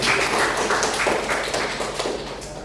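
A class applauds a student, a dense, continuous patter of many hands clapping close and loud throughout, with no talking over it.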